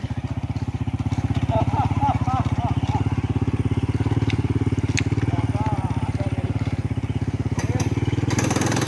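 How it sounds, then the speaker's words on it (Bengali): An old, broken-down motorcycle being ridden along a forest track, its engine a loud, steady rattling chug throughout, with brief voices and laughter over it. "মার্কা ভাঙা মোটর সাইকেল"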